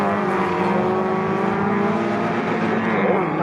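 MG Metro race cars battling in a pack of about ten at Snetterton circuit, their engines blending into one steady, close, loud roar that holds without a break.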